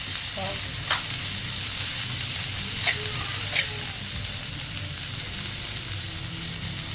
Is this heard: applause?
no